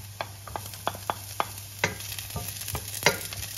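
Garlic added to a pan of cooked onion, stirred with a series of sharp utensil scrapes and knocks over a faint steady sizzle, no voices.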